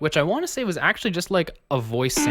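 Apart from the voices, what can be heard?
No everyday noise stands out behind the speech.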